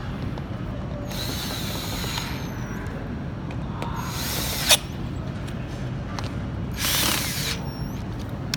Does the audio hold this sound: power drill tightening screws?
yes